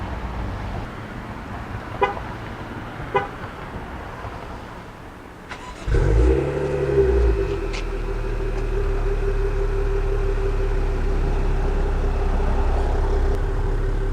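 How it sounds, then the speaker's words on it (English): A 2019 Maserati Levante S starts by remote start: brief horn toots, then the engine fires with a rising burst and settles into a steady, close idle drone. "Let's start up the car."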